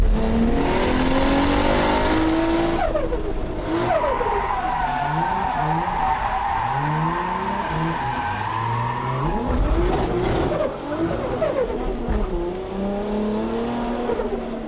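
Tiff Needell's car on a UK drift challenge run, with a faulty handbrake, its engine revving and dropping through the gears while the tyres squeal loudly and almost without a break. Sweeping pitch changes mark each slide, and no one talks.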